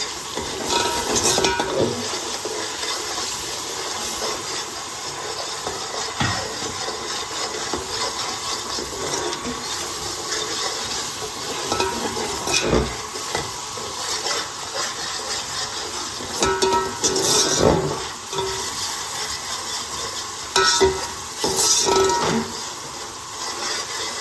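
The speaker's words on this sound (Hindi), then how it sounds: "ये देखिए मसाला मैंने अच्छी तरह भून लिया।" Onion, tomato and spice masala frying in a pan: a continuous low sizzle runs throughout, punctuated by repeated wooden spoon scrapes and metallic clinks against the pan, with no speech.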